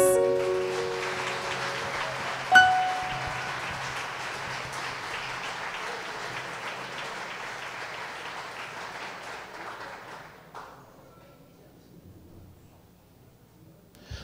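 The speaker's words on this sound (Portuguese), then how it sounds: "Aplaudam a Jesus." A church congregation applauds, a full round of clapping that starts loud over fading music, briefly peaks, then gradually thins and dies away into near quiet.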